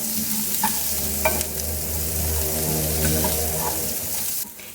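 Small shallots sautéing in oil with fried prawn masala for a prawn roast, giving a steady, close, dense sizzle and crackle that runs almost unbroken before dropping away abruptly at the very end.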